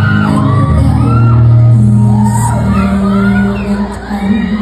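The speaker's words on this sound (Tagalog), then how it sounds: "Sigawan, no?" A large crowd shouting and cheering loudly and continuously, a dense roar of many voices with whoops rising above it, easing off slightly toward the end.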